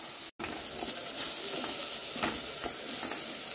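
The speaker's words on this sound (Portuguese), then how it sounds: "vamos dar uma refogada aqui nessa cebola" Onion sautéing in a pan as the base for a chayote dish, giving a steady close sizzle with light stirring scrapes, and a brief dropout near the start.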